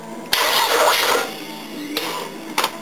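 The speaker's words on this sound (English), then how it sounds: "If the battery's any good, it should crank at least two full turns." A car with a weak, nearly flat battery cranks its engine in one sustained strained burst lasting about a second, then fades, followed by two brief weaker cranking attempts, heard close and alone.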